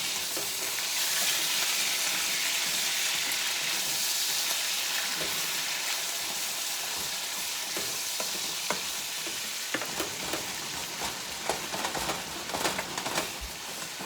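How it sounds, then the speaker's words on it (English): Ground beef sizzles and fries steadily in a pan while a mixing spoon stirs it, giving a constant bright crackle broken by scraping clicks that grow busier toward the end. "Let's go ahead and give this ground beef a little stir."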